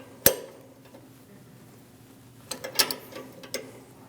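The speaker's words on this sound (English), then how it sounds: "use a 12mm wrench to tighten down the fitting" 12 mm wrench tightening a brake hose fitting at the rear of a 2011-2018 Ram 1500: a sharp metallic click near the start, then a cluster of faint clinks and taps against a quiet shop background, with no voices.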